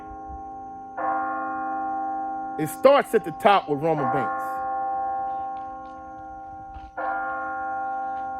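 A church bell rings with long, sustained tones that hang in the air during a football tailgate show. Someone talks over it in the middle, and another bell strike follows near the end.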